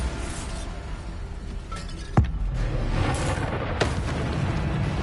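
In Hogwarts Legacy, a Bombarda spell goes off as a sudden booming blast with a sharp crack, followed by rumbling debris and a second, smaller impact over a busy background of battle noise.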